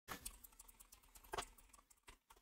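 Fast, light typing on a computer keyboard as a Google search is entered, a close run of irregular key taps with one louder clack midway.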